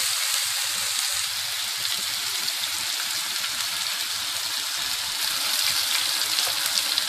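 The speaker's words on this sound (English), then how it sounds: "you add your Coke. Your Coke, your tomato sauce, and a little bit of honey, and you let that boil" Coke, tomato sauce and honey bubbling and sizzling in a pan, a steady, close, continuous hiss with no talk over it.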